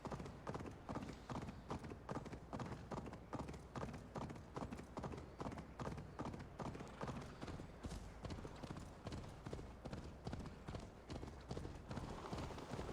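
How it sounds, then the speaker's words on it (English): Steady, rhythmic clip-clop of a thoroughbred horse's galloping hooves in Assassin's Creed Valhalla, loud and continuous throughout, with a faint voice occasionally under it. "Horse ain't even getting tired."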